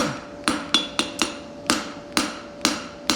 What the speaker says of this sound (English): I'm forging one side